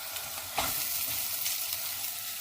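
Onions sizzle and fry in a pot as the base for lentil soup, with a steady close crackle throughout and a brief stirring scrape partway through.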